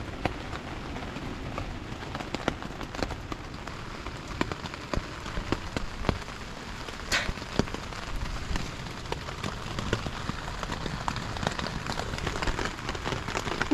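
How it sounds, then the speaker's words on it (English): Rain patters on a tent during a thunderstorm on the Appalachian Trail, a close, steady hiss broken by irregular louder drips and taps. "It's still raining."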